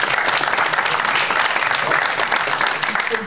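A crowd at a town welcome ceremony for new residents applauds a volunteer Saint-Nicolas, dense continuous clapping close and loud, with faint voices mixed in.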